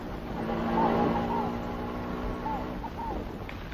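A motorbike passes on a road with a steady, droning engine hum that swells slightly and then eases off, with faint voices in the background.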